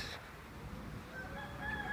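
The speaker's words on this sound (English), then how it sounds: "You might hear Rodney the Rooster in the background." Faint rooster crowing in the distance in St. Lucia, a thin drawn-out call rising over low background rumble.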